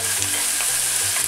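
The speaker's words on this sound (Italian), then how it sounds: "ora andiamo ad aggiungere gli altri ingredienti, partendo dalle cipolle, andiamo a mescolare bene" Onions for an empanada filling being stirred in a frying pan: a dense, loud, continuous sizzle with soft scraping movement underneath, close and steady throughout this short moment.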